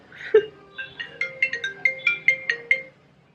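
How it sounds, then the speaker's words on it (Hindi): A melodic phone ringtone plays a quick series of bright electronic notes in a bouncy rhythm, clear and close, then stops. "फोन आ रहा है मेरा।"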